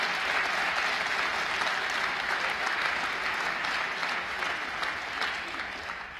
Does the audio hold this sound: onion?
no